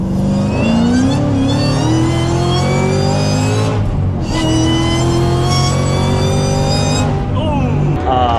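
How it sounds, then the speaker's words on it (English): A loud supercharged Corvette Z06 engine revs hard, its supercharger whine made louder by a supercharger tube, rising in pitch, dipping briefly, then surging again close up. "I made the supercharger like 10 times louder with the supercharger tube"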